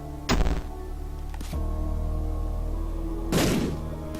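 A bomb blast in The Binding of Isaac video game: two sharp, punchy thuds with a brief crackling burst, set over steady game music.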